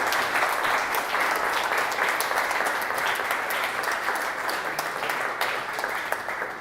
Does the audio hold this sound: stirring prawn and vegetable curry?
no